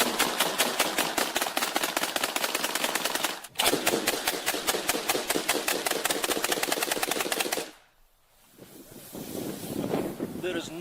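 Two AA-12 automatic shotguns fire in long, rapid, loud strings of blasts, briefly pausing then resuming before cutting off, followed by windy outdoor noise and faint voices.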